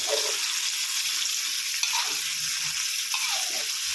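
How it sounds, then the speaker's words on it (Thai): Thai curry paste sizzles and hisses in a pan with a little added water for chicken jungle curry, a steady frying wash with occasional scrapes of stirring, close and continuous, no voices. "ตอนนี้ก็ทำทำการผัดไปก่อนนะครับ"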